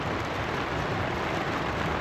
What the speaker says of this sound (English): First night out in the rain.